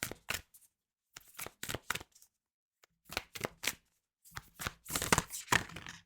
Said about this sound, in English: So be careful how I shuffle these.